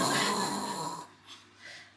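A stand-up comedian imitates a double-stroke snore with his voice: a loud, rasping inhaled snort, then two fainter breathy pulses.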